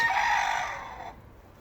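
Chickens in a poultry shed bedded with deep straw on a farm in February, giving a brief close cluck-like call that trails off, with no one talking.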